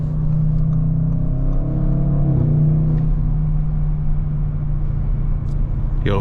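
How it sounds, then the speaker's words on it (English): A 600 hp Audi RS6 twin-turbo V8 widebody wagon pulls hard with a loud, steady engine drone heard from inside. The pitch shifts briefly midway, then holds a constant roar to the end. "Wherever you want to hit the gas at, it just goes."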